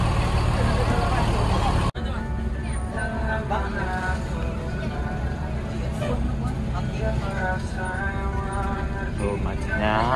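Steady, dense road noise from a Jakarta traffic jam: engines rumble and idle continuously nearby, with voices mixed into the din.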